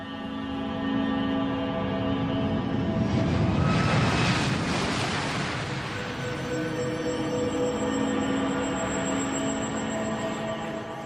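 A US Airways airliner's engines roar steadily for several seconds, swelling to a louder whooshing peak in the middle as it passes and then easing back to a constant drone.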